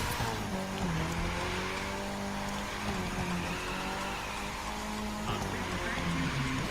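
A Mitsubishi car nitro-drifts in The Crew 2, its engine droning and shifting pitch under a steady hiss of tire squeal, sustained and close throughout.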